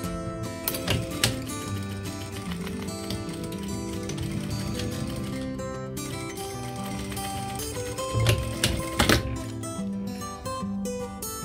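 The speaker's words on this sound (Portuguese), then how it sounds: "vou fazer um pequeno sanduíche, assim, dessa maneira, e vou passar uma costura reta aqui." A sewing machine stitches a straight seam through layered fabric strips for a clutch bag, running steadily with a dense rapid needle rhythm and a few sharper clicks and knocks along the way.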